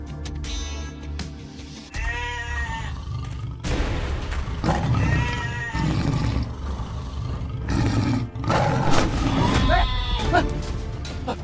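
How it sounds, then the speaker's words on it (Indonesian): A tiger roars near goats, with growls and animal cries repeating through the scene over a steady low rumble, mixed with shouting voices. "Harimau! Pergi kamu!"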